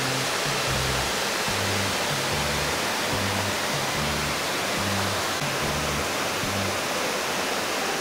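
Rushing water at Bigar waterfall (Bigarski vodopad) makes a steady, loud, broadband roar throughout, with a faint, low, rhythmic pattern repeating beneath it.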